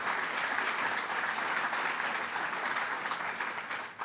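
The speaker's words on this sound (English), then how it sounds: "Let's give him a round of applause." Sustained audience applause at a governor's economic development announcement for a university health science campus, a dense steady wash of many hands clapping at even loudness for about four seconds with no talk.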